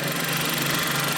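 A 2015 VW Polo 1.0 BlueMotion three-cylinder 94 bhp petrol engine idling, a steady, close, loud hum with an even pulse and no voices.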